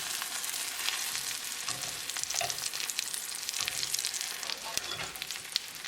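Veggie omelette frying in a pan, a close, steady crackling sizzle with scattered pops and soft scraping of a utensil, continuing without talk.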